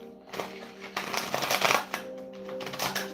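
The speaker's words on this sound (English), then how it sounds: "I know that was a really long shuffle." Tarot cards riffle and slap together in a brisk shuffle during a reading, a close, crisp run of papery flutters and taps with several denser bursts in the middle, over a faint steady hum.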